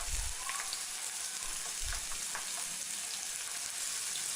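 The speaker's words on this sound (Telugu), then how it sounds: "ఆయిల్ హీట్ అయిన తర్వాత వలుచుకున్న వెల్లుల్లి రెమ్మలను వేసుకుని బాగా ఫ్రై చేసుకోవాలి." Peeled garlic cloves fry in hot oil on low heat for a lemon pickle. A soft, steady sizzle crackles throughout, with a couple of low thumps from stirring and no talking.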